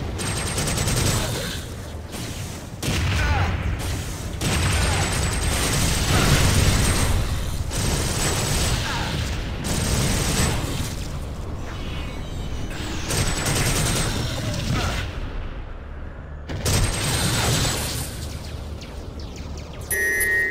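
Rapid bursts of gunfire from the video game TimeSplitters: Future Perfect on Xbox crackle almost nonstop, loud and close, with brief pauses between volleys and metallic clinks.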